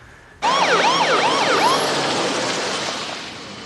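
Ambulance siren of an arriving Clayton County Fire Med unit, a loud wailing yelp cycling rapidly up and down, starting abruptly and holding close with no talk.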